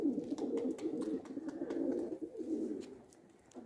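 Pigeons cooing close by in a low, continuous rolling murmur of overlapping throaty calls, with faint scattered clicks and rustles on top and no talking.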